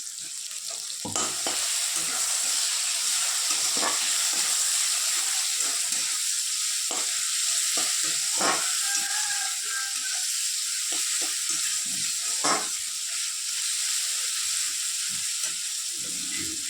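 Green chillies sizzle in hot frying oil in a pan for mustard greens, a loud steady crackle running throughout with scattered sharper pops and stirring clicks.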